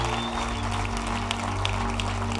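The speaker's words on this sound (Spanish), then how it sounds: "Oh, come on, give God an applause." Congregation clapping in a church service, a steady dense wash of applause filling the space at even loudness throughout.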